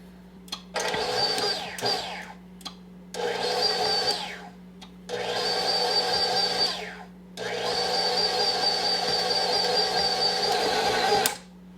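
A stand mixer pulses flour into s'mores cookie dough in several motor bursts of one to four seconds, each whirring up and cutting off, with a steady low hum between them.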